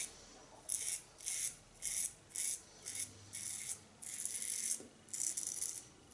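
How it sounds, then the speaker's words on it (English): A heavy stainless steel safety razor scrapes over stubble in soft, rhythmic strokes, about a dozen brief rasping passes close by with no one speaking. "Just letting the razor do the work, it's just the weight of the razor,"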